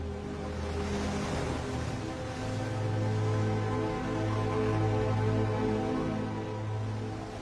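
Ocean waves break and wash along a shore where young animals struggle in the surf, a steady loud rumbling roar with surging swells and no voices.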